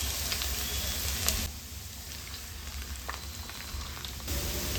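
Garlic frying in a pan with garam masala spices, cardamom, cinnamon, cloves and a bay leaf, giving a steady, close sizzle that eases to a softer hiss midway and then swells again, with no voices.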